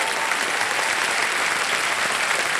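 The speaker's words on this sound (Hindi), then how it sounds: "तालियां बज जाएं इनके लिए।" Steady, dense applause from a TV game show studio audience greeting the contestants, a broad continuous clatter of many hands, loud and close, with no speech over it.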